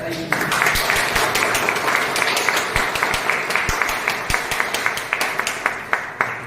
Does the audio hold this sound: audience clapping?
yes